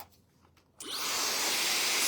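A hairdryer switches on after quiet rustling and blows steadily, a loud close airy roar during a blow dry with a round brush.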